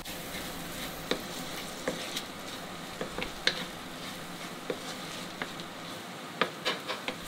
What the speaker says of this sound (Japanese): そしてターメリックを入れました。